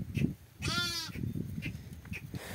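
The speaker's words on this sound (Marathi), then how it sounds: "निघल्यात मेंढ्या बाहेर" A single wavering sheep bleat rises clearly over a low outdoor murmur in open grazing land, with faint shuffling and soft background sounds around it.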